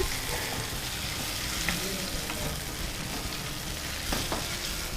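Ginger garlic paste fries in a hot pan, a dense continuous sizzle with occasional spatula scrapes, close and steady, no voices.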